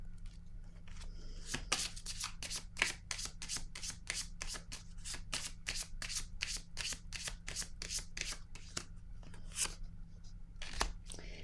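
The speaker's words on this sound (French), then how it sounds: "Je vais déposer une carte." Playing cards are shuffled and laid down during a card reading: a long run of quick, crisp riffling snaps at a steady rhythm, close and fairly loud, with no talking.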